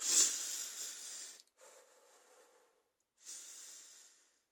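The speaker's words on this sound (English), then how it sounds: "I'll just try and slow my breath down" A person demonstrates slow, shallow breathing with soft airy exhales and inhales in long drawn-out passes, heard close and quiet with a pause between breaths.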